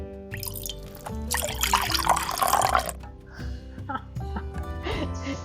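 Cold water from the refrigerator is poured into a cup for tea in an RV, a close, splashing trickle lasting a couple of seconds followed by a few drips and light clinks, with background tones.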